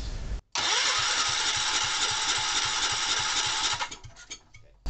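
A Kohler K241S single-cylinder small engine cranks and catches, a loud rapid chugging putter running steadily for a few seconds before dying away to quieter mechanical rattles.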